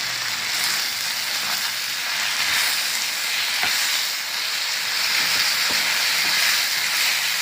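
Banana flower and cooked dal sizzle in a frying pan, a constant bright hiss with soft scraping ticks as the mixture is stirred.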